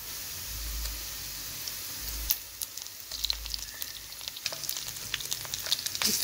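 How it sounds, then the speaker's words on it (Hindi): Ginger-garlic paste frying with golden-browned onions, a steady close sizzle and crackle with scattered sharp spatters and stirring scrapes, rising into busier popping midway. "इसको अब हम फ्राई करेंगे।"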